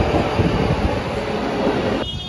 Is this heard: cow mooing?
no